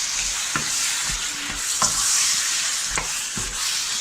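Spices and chicken sizzle and fry in a pan for a home-style Indian chicken curry, with steady broadband frying hiss and a few louder scraping stirs at regular intervals, close and alone without talk.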